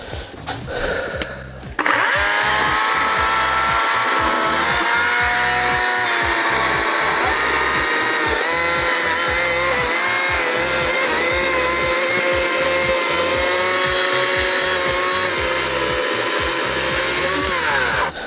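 A loud, steady whine from a GTM CS56/3000BL cordless chainsaw starts after a brief pause and runs continuously, rising and falling slightly as it cuts firewood.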